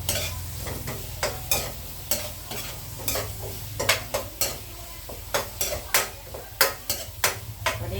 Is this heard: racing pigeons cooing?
no